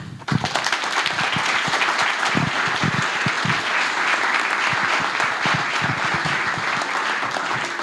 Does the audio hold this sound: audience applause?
yes